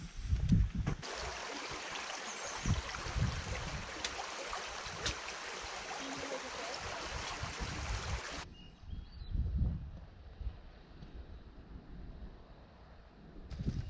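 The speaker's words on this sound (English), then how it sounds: "Gorgeous, gorgeous Wolf Brook" Wolf Brook, a stream along the Fundy Footpath coastal trail in New Brunswick, flows and splashes as a steady wash of water, with a few low thumps and faint wind, and no one speaking.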